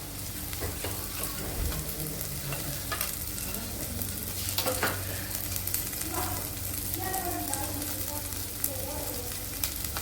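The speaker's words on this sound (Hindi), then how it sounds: "ये प्याज और हींग दोनों साथ साथ डालिए, दोनों की महक बड़ी अच्छी लगती है" Onion and asafoetida frying together in a pan make a moderate continuous sizzle broken by scraping stirs and a few clinks of a spoon against the pan, with no talk.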